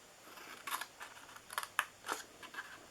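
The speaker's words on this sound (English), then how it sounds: "Now on the bottom part, we are going to cut up here." Scissors snip through paper while shaping a small DIY treat box, a handful of quick, close, crisp cuts in an irregular rhythm over quiet background.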